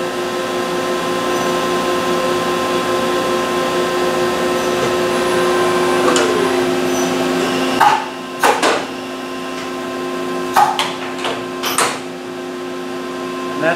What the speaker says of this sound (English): So right now it's doing a rigid tapping cycle.